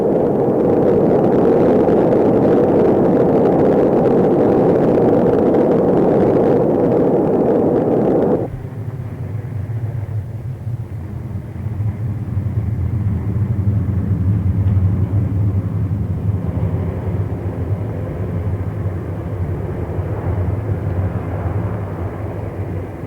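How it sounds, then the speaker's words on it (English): Atlas Centaur rocket lifting off with the Pioneer Venus orbiter, a loud continuous roaring rumble that abruptly drops to a deeper, duller sustained roar partway through, with no voices. "Its chariot, a reliable Atlas Centaur. great-grandson of America's first intercontinental missile and booster for the first Americans in orbit. It's still a mighty sight at liftoff."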